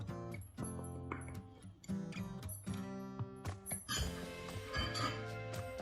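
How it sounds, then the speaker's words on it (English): Flour, salt and baking powder are mixed in a bowl, giving soft scraping and light clinks of utensil against the bowl under steady background music. "I'm going to give that a really good mix."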